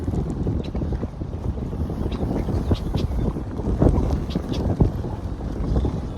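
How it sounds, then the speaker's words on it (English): Strong gusting wind buffets the microphone on an outdoor walking trail near a lake, a steady low rumble with sharper gusts throughout, and a person talks over it. "If you can even hear me with this wind ripping."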